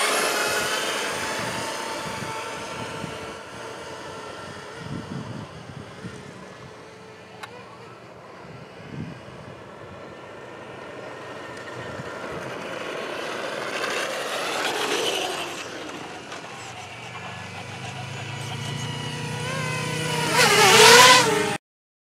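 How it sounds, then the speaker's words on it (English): A Traxxas Slash 2WD XL-5 RC truck drag races a Mavic Mini drone, its electric motor whining and revving steadily, swelling into a rising sweep and a louder burst near the finish. "The Challenger, the Traxxas Slash two-wheel drive XL-5."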